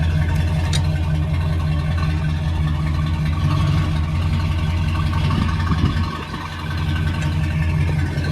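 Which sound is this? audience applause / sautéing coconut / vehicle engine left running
vehicle engine left running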